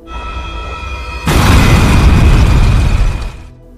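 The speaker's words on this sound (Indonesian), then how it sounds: "tetap selamat dan segera meninggalkan bus yang akhirnya meledak" A bus explodes with a sudden loud boom that erupts into a roaring, sustained blast of noise, rumbling on for a couple of seconds before cutting away.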